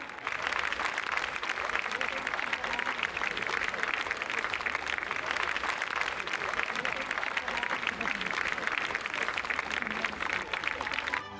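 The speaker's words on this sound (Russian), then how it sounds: "Появление на сцене Хиблы Гирзмава и симфонического оркестра Мариинского театра сопровождается бурными аплодисментами." A festival audience on a theatre square gives stormy applause for an opera singer and the Mariinsky Theatre symphony orchestra, a dense, continuous wash of clapping heard from a distance while a voice talks over it.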